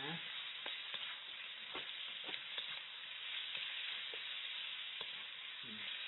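Pork and bamboo shoots sizzling while being stir-fried in a pan, a steady hiss throughout with irregular scraping strokes of a spatula, no talk.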